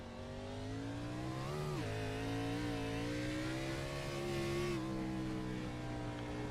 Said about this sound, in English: You just see he's just spinning the tires as he tries to put the throttle down